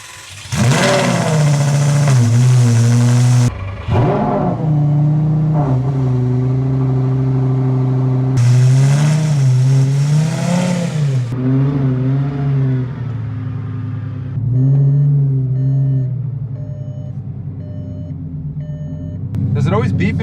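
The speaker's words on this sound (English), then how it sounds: "as long as the engine starts, runs, and we can get this thing to drive" A Lamborghini Gallardo engine running and revving, deep steady rumble rising and falling through several throttle blips, loud and close, with voices briefly audible.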